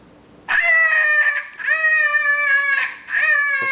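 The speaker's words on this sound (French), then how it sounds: "C'est un peu un lièvre en détresse." A FoxPro Wildfire electronic game caller plays a distressed hare call: three loud, close, high-pitched wailing cries, each drawn out and slightly falling, separated by brief pauses.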